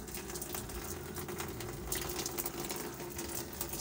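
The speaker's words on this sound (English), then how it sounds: "I just opened my tap and the water is running inside my washing" Tap water runs into a Ramtons twin tub washing machine, a steady rushing and splashing hiss with a faint hum underneath, continuous and fairly even, heard close with no talking.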